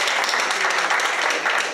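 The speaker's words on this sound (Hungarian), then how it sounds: "Megtapsoljuk, így van." A crowd of audience members at a FIFA gaming tournament claps steadily in a short, dense burst of applause, with a faint voice underneath.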